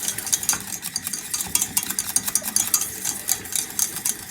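Rapid whisking of béchamel sauce in a pan while making French croque sandwiches, a steady scraping, clicking rhythm of many quick strokes close up with no talking.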